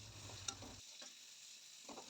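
Steady sizzling of onions frying in a pan, with a couple of faint stirring scrapes; no talking.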